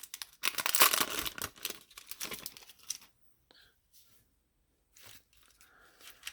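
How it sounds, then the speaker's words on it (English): Packs of 1991 Leaf baseball cards are cut with a small knife and torn open: about three seconds of loud, crinkly ripping and crackling wrapper, then a few faint, sparse rustles. "these do not want to come open. So I'm going to pull that little knife out. We'll put a little cut into them"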